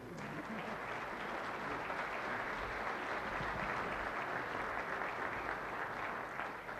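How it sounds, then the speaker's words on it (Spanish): An audience at an anniversary ceremony claps steadily and evenly throughout, a dense sustained applause with no one speaking. "nosotros acompañamos con nuestro aplauso"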